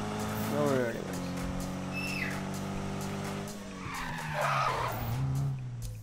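Tires skid and squeal as a car drifts in the Need for Speed (2015) racing game, engine droning steadily with a rising squeal near the end, while someone talks over it.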